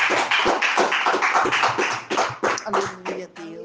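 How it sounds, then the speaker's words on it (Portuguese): Congregation in a church clapping together in a steady, fast rhythm of dense hand claps, loud and close, with voices and singing rising over the applause toward the end. "Aplauda ao Senhor nessa noite,"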